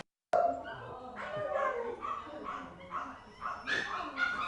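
A rescued dog, one of the animals displaced by the Gatlinburg wildfires, whimpers and gives several sharp barks and yips close by, the sounds coming in uneven bursts over a steady background of voices and activity.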